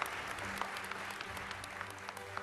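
Audience applause for the Budget and Finance Chair at a civic event, a steady wash of many people clapping with scattered sharper claps and faint murmuring underneath.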